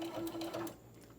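Sewing machine back stitching the side of a small tote bag with pockets, a short steady mechanical whirring hum that stops partway through, close and alone.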